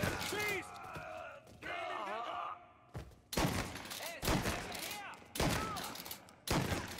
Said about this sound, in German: Auf ihn, Jungs! Schieß!